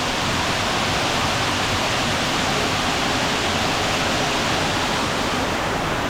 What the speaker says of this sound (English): Just a little cascade.